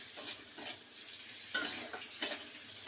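Onions are stirred in a frying pan for spicy Maggi noodles, a soft continuous sizzle punctuated by several quick utensil scrapes and taps, quiet and close with no one talking.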